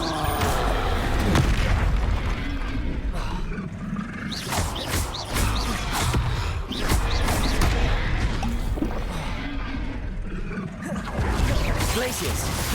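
In the wizarding game Hogwarts Legacy, the Bombarda blast spell sets off repeated heavy booms and crashes among other spell effects, with a voice heard over the combat.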